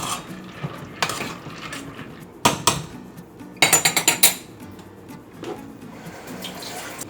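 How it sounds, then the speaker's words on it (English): A spoon knocks and scrapes against a pot while homemade mac and cheese is stirred, producing scattered clinks and a quick rattling burst in the middle, with faint background noise. "Stir it again."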